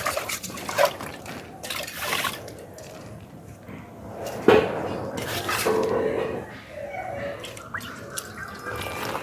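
A cooking pot is rinsed with water at a village home, with intermittent splashing, dripping and trickling nearby and occasional light clanks of metal.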